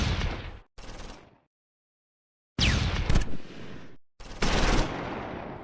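Bursts of automatic gunfire and rifle shots aimed at a German Panzer tank in the Close Combat 4 war game, set at Wiltz during the Battle of the Bulge, with three loud clusters separated by gaps of silence.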